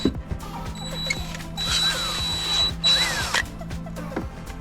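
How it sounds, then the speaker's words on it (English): Power drill driving into a boat step during DIY boat work, heard as short whirring bursts between pauses with a faint steady hum underneath, close and moderately loud. "Just drilling the step in on this one."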